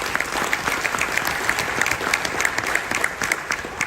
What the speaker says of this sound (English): Give yourselves a round of applause for those who took part in it.